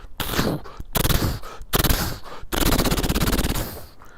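Rapid bursts of machine-gun fire from Carasian attackers in a Robot Commando Fighting Fantasy gamebook battle, loud, repeated volleys separated by short gaps with a long sustained rattle at the end, no speech.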